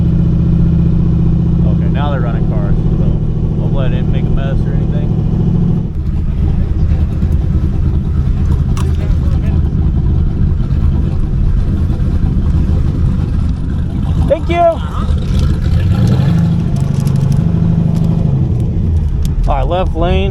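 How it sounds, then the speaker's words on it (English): Street cars run on a race track during a test day, a loud continuous engine rumble close by with shifting revs, while someone talks over it at times. "Okay, now they're running cars"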